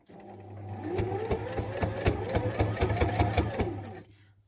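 A sewing machine fitted with a heavy duty needle stitches paper junk journal elastic closures, a close, rapid mechanical rattle that starts up, runs steadily for several seconds, then stops, over a low motor hum.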